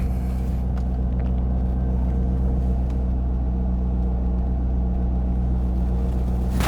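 A Corvette cruises along highway I-90, a steady loud road and engine rumble heard from inside the car with constant tire noise and no break.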